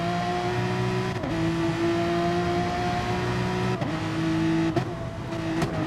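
A Frontier Porsche race car engine on the Nurburgring GP circuit holds a steady high tone. Short dips at each gear shift mark a few upshifts and downshifts, the engine is close and loud, and no one talks.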